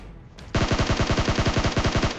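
Sustained automatic weapon fire in PUBG Mobile, a steady rapid burst of evenly spaced shots starting abruptly and continuing loud and close without pause.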